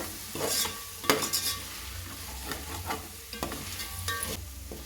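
Biryani masala with mint and coriander stirred and fried in a pan for egg biryani, with a soft steady sizzle broken by a spatula scraping and tapping the pan several times, fairly quiet and close.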